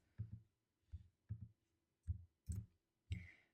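Six crisp computer mouse clicks, some in quick double pairs, sound close and alone in a quiet room while a Helm guestbook app is set up in Argo CD.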